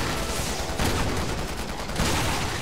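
Shotgun fire in Resident Evil 6, two heavy blasts roughly a second apart over a dense, noisy game soundscape, fairly loud and without talking.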